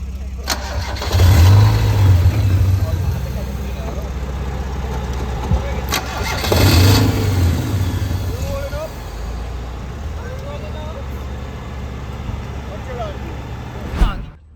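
A classic car's engine cranks and fires, then settles into a steady low idle, close and fairly loud, with a second revving surge and people talking nearby.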